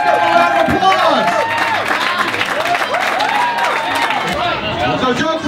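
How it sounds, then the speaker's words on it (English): Crowd applause and some cheering at a fishing tournament award for a sailfish winner, a dense steady clapping across the whole stretch over murmuring voices. "Let's give a round of applause!"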